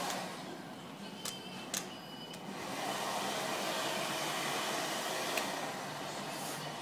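A hair dryer blows steadily at close range while drying permed hair, a continuous whooshing roar that swells slightly partway through.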